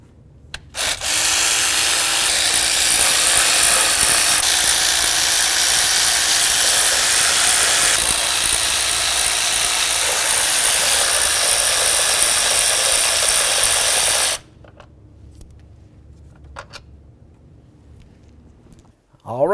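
A powered ratchet whirs loudly and continuously for about fourteen seconds while backing out 10mm intake manifold bolts on a 2007-12 Nissan Sentra. It then drops to quiet handling noise with a few faint clicks.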